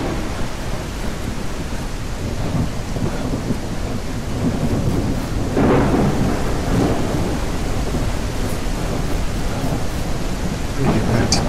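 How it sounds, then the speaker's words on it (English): Heavy video-game rain pours in a constant dense hiss while thunder swells and rumbles near the middle, the storm loud and unbroken from start to finish. "How crazy is this rain?"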